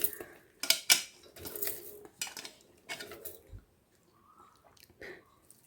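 Thinly sliced raw Totapuri mango tipped into a cooking pot for mango dal, giving a few close clinks and scrapes of utensils against metal with soft wet thuds, busy at first and fading to quieter handling.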